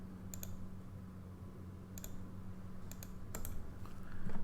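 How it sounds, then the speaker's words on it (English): Computer mouse right-clicks, a few faint sharp clicks spaced apart over a low steady room hum. "right click to release"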